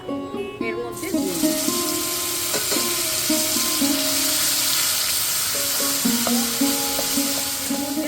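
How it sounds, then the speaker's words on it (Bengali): Dried red chillies and cumin seeds fry in hot oil with a constant bright sizzle, close and steady, while tonal background sounds run underneath. "চারটে শুকনো লঙ্কা দিয়ে দিলাম এখানে জিরে দিয়ে দিলাম"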